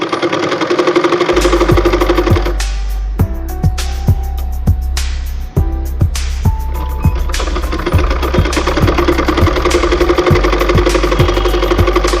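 A sewing machine running close and loud, stitching a collar in a rapid, steady mechanical whir broken by short pauses and clicks as the fabric is adjusted, then starting again.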